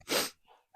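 One sharp, close sneeze bursts out, followed by a brief breathy exhale.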